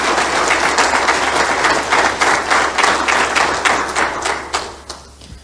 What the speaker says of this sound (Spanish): Denle un aplauso a Jesús, que él se lo merece.